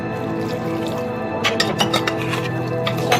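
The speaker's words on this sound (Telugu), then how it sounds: "ఒక హాఫ్ గ్లాస్ వాటర్ పోసుకుందాం" Water is poured into a mixed dal mixture for Andhra-style pappu charu: a brief run of splashing, squishing pours and drips, close and moderately loud, after a quieter stretch.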